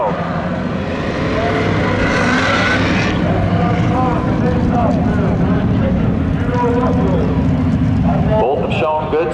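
Drag race cars, including a 1980 Camaro, launching side by side at Seekonk Speedway spectator drags: a loud, sustained engine roar fills the whole stretch, with a track announcer talking over it.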